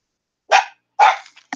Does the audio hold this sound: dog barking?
yes